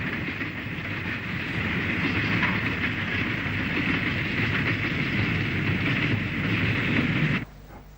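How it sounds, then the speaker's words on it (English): An 8F steam locomotive hauls a goods train past Anglesey siding signal box, a steady loud rumble of wagons and rail noise with clickety-clack running on, ending abruptly near the end. "An 8F280 approaches Anglesey siding signal box with another goods train"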